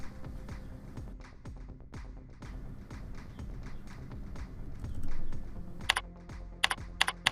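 Computer keyboard keys are typed in a quick, quiet, steady run of close clicks, and a few sharper taps come near the end.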